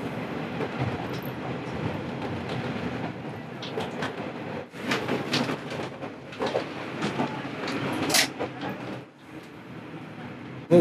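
A rapid train arriving at Tsuyama station on the Tsuyama Line, heard from inside as a steady rumble with clattering wheels and rising brake noise, then a sharp squeal as it slows, with faint background voices.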